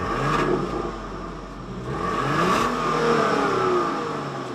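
A 2025 Genesis GV80's 3.5-liter twin-turbo V6 accelerates steadily, its pitch climbing through gear shifts with a smooth mechanical whir and rumble, heard alone without talk.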